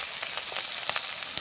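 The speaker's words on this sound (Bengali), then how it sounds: "এটাকে ভালো করে কষিয়ে নেবো আমি।" Ginger-garlic paste with salt and cumin, coriander and chili powders sautés in a hot pan, giving a dense, close sizzle with crackling spits and brief stirring scrapes.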